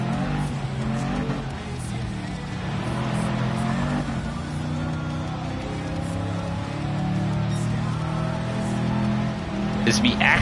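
Supercharged car engine in Gran Turismo 7 at the Colorado Springs circuit, a steady throaty drone with some tire squeal, with someone talking over it throughout.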